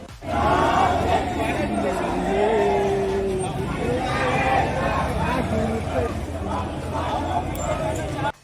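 Busy hospital crowd, a continuous hubbub of many overlapping voices and chatter at close range, with steady background bustle throughout.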